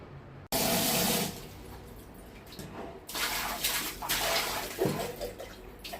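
Tap water gushes loudly into a tub or bucket to soak laundry such as doormats, a steady close rush with shifting splashes and brief changes in flow.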